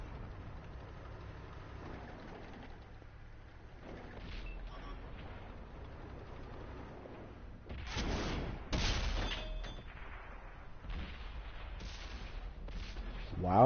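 Several heavy booming tank gun shots from World of Tanks, with a T25 AT tank destroyer and a Panther involved, ring out over a low rumbling engine bed, the loudest blasts landing near the end, with a voice talking under the sounds.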